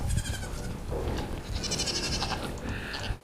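Several goats bleat close by at a goat farm, their wavering calls overlapping with farmyard background noise.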